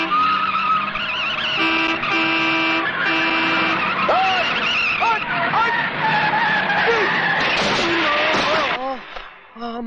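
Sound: car horn honking and tires skidding on a highway

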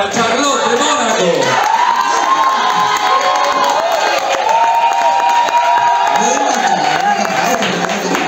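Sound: applause and cheering for a contestant

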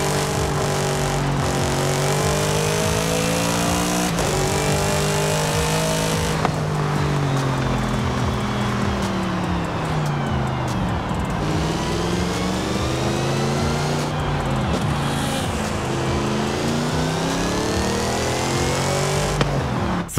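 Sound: supercharged V8 car engine revving, video game

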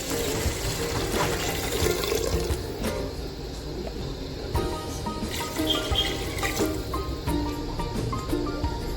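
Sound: water poured into cooking pot

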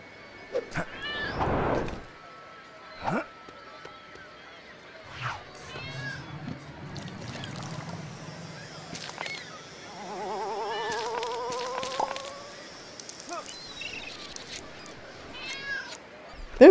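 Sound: cat meowing in the video game LEGO City Undercover

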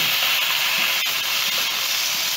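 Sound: water sizzling in hot pan

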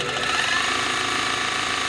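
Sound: Consew 201R walking foot industrial sewing machine winding a bobbin

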